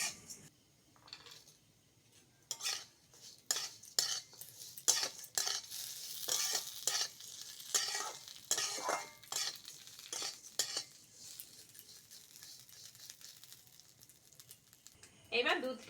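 Cashews and raisins fried and stirred in a pan for vermicelli payesh: uneven bursts of scraping and clattering against the metal over a light sizzle, with a voice heard at times.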